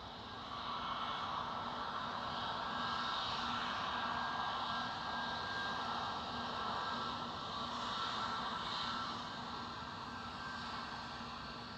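An Air Transat Airbus A321neo at Schiphol airport gives a steady, distant jet roar that holds evenly for several seconds, swelling slightly without a clear peak.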